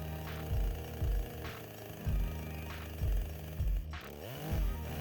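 A Makita chainsaw trims a high spot on a log, its engine rising in repeated loud revving bursts about once a second over a steady idle, close to the listener.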